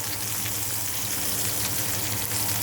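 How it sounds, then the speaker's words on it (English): Salmon fillets fry in a pan with a dense, steady sizzle and crackle, close and even throughout, with no voices over it. "And then pat dry them, and then we'll just make them in that pan."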